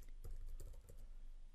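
Brief burst of typing on a computer keyboard, a quick run of close, crisp key clicks with a short pause in the middle, heard alone.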